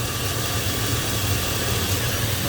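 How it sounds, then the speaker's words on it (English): A Chevrolet Silverado 5.3 V8 with an intermittent misfire idles steadily up close, a low rumbling drone with a faint tick buried in the engine noise. "about every time that sucker misfires, you can hear a little tick down in there"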